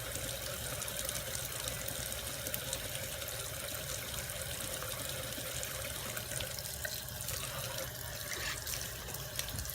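Tap water runs steadily into a sink while makeup brushes are rinsed, a constant close splashing hiss with no pauses and no voices.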